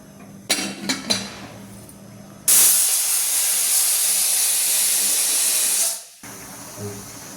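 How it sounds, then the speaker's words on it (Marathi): A pressure cooker cooking dal releases a loud, steady steam whistle lasting several seconds, preceded by a few short clicks and bursts and ending abruptly, with faint kitchen background afterward. "हे झाले आपले कुकरच्या 3 शिट्ट्या"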